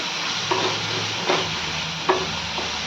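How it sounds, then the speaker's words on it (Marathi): Spices, onion, tomato and green chili fry in a pan for whole masoor dal, a steady close sizzle broken by a few soft stirring scrapes, with no talking. "मसाले व्यवस्थित भाजून घ्यायचे कांदा टोमॅटो हिरवी मिरची जे काही असेल ना ते व्यवस्थित भाजले"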